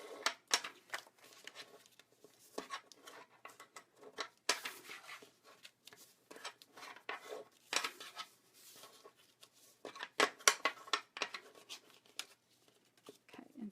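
Paper being folded and scored by hand for a gift card holder at a stamping craft class, with a series of soft crinkles, scrapes and taps coming close and irregular, no talking.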